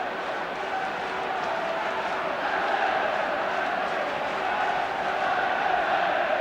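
A packed football stadium crowd at the 1977 League Cup final second replay between Aston Villa and Everton keeps up a continuous, distant roar, a dense wash of massed voices with no breaks.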